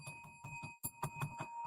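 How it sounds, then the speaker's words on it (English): A bell rings in a steady run of about nine clear, sustained strikes, each tone ringing on with bright overtones, with a short pause partway through. "So I want to ring the bell"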